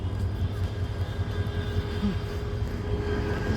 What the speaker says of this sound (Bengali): ট্রেন ছেড়ে যাচ্ছে